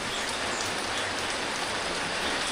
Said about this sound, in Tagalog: Hindi masyadong malamig, pero walang tigil ang ulan.